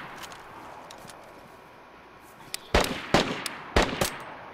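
Gunfire in the survival game DayZ: after a few seconds of quiet ambient hiss, four or five sharp, loud shots crack out in quick succession, unevenly spaced, each followed by a short ringing decay.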